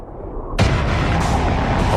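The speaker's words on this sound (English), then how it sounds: "A 1 megaton surface explosion will lift tons of soil up into the mushroom cloud" Sudden explosion of a nuclear bomb, the Tsar Bomba, bursting in after a quiet moment into a loud, sustained broadband roar that keeps rumbling to the end.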